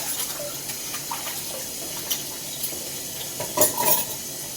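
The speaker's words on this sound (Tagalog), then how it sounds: "tatapos na po tayo sa paghuhugas." Dishes being washed at a sink on a Saturday morning: soft running water, faint clinks and scrapes, and a few brighter clatters of plates near the end, with no talking.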